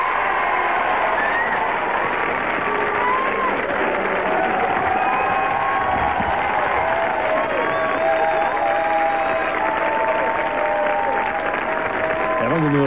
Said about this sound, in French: Je vous demande d'applaudir Will Smith et Ophélie Winter.